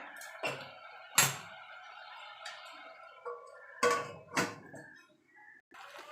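A lid clanks onto a pan of leafy greens cooking for a vegetarian curry, giving a handful of sharp metallic clinks and knocks close by over a quiet kitchen background, with no talking.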